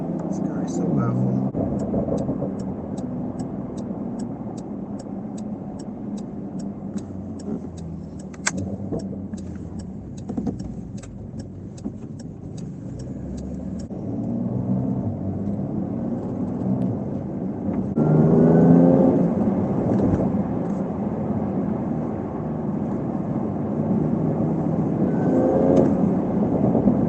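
A Porsche 992 Turbo S engine accelerates on a night mountain road, a low engine rumble under cabin noise building in steady surges with rising pitch, while someone talks over it.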